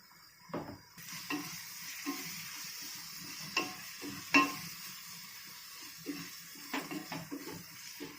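Biryani masala and green chillies sauté in oil and ghee with a faint, low sizzle. Sharp spoon clicks and taps from stirring break in at irregular moments.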